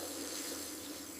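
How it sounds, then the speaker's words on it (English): A garden hose on a gentle spray setting hisses steadily as the water pours out, continuous and fairly close, with no talking. "I want the gentle spray, not the hard jet."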